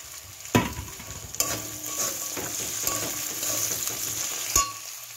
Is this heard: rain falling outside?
no